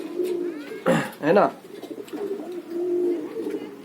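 Pigeons coo softly and close by in a few short throaty bursts, while someone speaks in Hindi over them.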